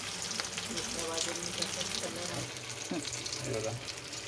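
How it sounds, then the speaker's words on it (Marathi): Corn cutlets fry in hot oil with a continuous soft sizzle and light bubbling, and a voice speaks faintly over the cooking. "तेल गरम झालं ना म्हणजे फटाफट होतील फ्राय करून जास्त टाईम पण नाही लागत फ्राय करायला"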